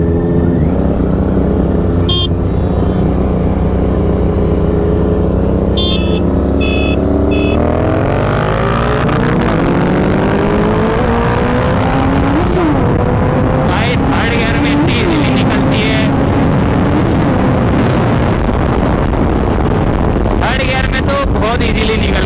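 A 2022 Honda CBR 650R and a 2024 Royal Enfield Continental GT 650 race side by side, engines droning and then rising sharply in pitch under hard acceleration from third gear, with heavy wind buffeting across the microphone throughout.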